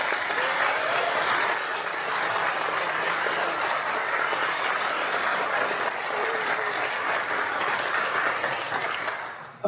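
An audience at a rocketry conference applauds, steady and dense clapping from a large crowd for nearly ten seconds that fades at the end, with no one talking over it.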